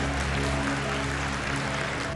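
A crowd cheers and applauds as Felipe González, the former Spanish prime minister, arrives at Caracas airport. The dense, steady clapping and shouting fills the whole stretch at moderate loudness with no break.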